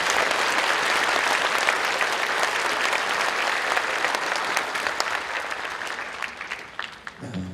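A church congregation claps together during a dedication service for a new building, dense sustained applause that holds steady and then thins and fades toward the end.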